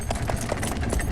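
A horse sets off in a comedy film scene, hooves clip-clopping in a steady quick rhythm of clear knocks over a busy background.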